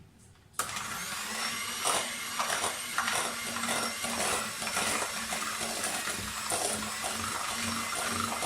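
An electric mixer whirs steadily while tea cake batter is beaten until fluffy. The motor kicks in abruptly after a short quiet start, with faint clinking of the beaters against the bowl.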